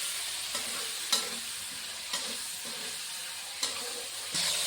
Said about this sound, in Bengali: বেশি ভাজবো না, অল্প করেই ভাজবো।